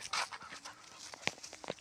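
A dog pants in short, quick breaths, fairly close, with a couple of sharper sniffs or whines mixed in.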